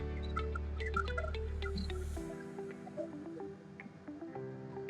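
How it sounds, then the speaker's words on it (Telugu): Water poured into a cooking bowl for boiling sliced baby corn, a steady low pour that stops partway, followed by quieter drips and small clinks. "ఇప్పుడు నీళ్లు పోసుకోవాలి. గిన్నెలో"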